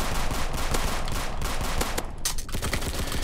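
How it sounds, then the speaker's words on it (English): Rapid bursts of gunfire in the Roblox game Berkeley County Patrol crackle close and loud, the shots packed together like automatic fire, with a short lull before they resume. "Shots fired."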